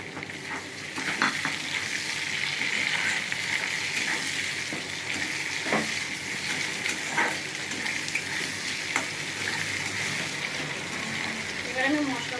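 Tomatoes fry in a pan with garlic paste, giving a steady, loud sizzle throughout, with occasional stirring scrapes and clinks cutting through the hiss.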